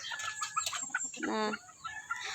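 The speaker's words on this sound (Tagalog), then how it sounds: "Yan na po siya pinakadako ng manok." Chickens cluck and squawk nearby, several birds calling in short, uneven bursts with one drawn-out cackle in the middle.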